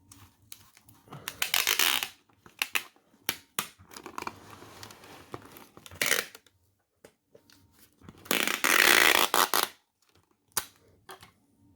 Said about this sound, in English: You're going to tape this up.